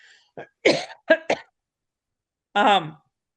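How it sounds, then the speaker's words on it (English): A few short, harsh coughs in quick succession, then a pause and one more throaty burst, close and fairly loud with no talk. "Excuse me, I got to cough a second."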